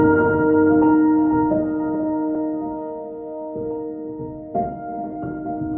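Ambient pad chord from the Forms piano plugin on its cycles preset, soft sustained tones layered into a held chord that shifts into an inversion partway, with gentle swells and a fading tail, no voices.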